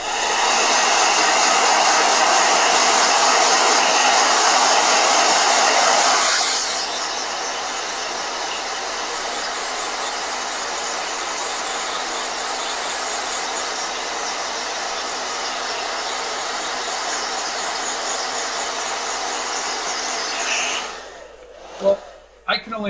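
A blow dryer roars loudly, then drops to a lower, steady whoosh for a long stretch before cutting off, followed by a few clunks.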